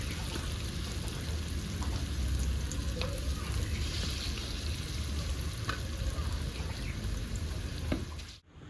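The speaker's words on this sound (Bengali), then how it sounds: "তেলটা আমার ভালো করেই গরম হয়ে গেছে, এবার মাছের ডিমগুলো আমি মিডিয়াম সাইজে ভেজে নেবো" Fish roe frying in well-heated oil, giving a steady, dense sizzle and crackle that runs without a break at close range, then cuts off abruptly near the end.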